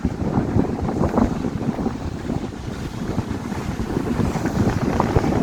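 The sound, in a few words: strong wind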